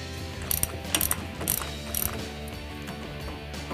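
Hand ratchet clicking in quick bursts as it tightens the drive shaft pinion nut on a Ford Mustang, several short close strokes with brief pauses between them, no speech.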